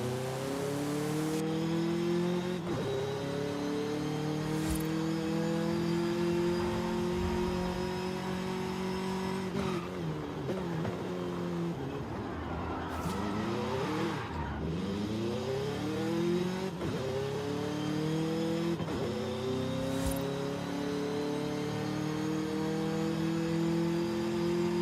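A car in Forza Horizon 5, fitted with aftermarket parts, revs its engine repeatedly, the pitch climbing and dropping through several throttle blips, loud and close with no talking.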